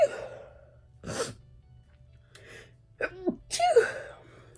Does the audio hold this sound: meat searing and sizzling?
no